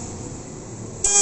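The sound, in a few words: ATV quad bike horn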